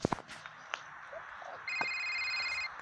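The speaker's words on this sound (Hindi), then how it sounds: "उफ, किसका फोन है?" A phone ringtone starts partway through, a bright repeating electronic melody at moderate distance, following a few soft footsteps and knocks in an otherwise quiet room.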